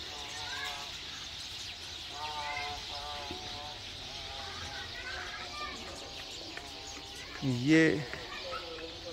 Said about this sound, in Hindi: शाम को भी ये बहुत ज़्यादा चिड़ियाँ चहचहाती हैं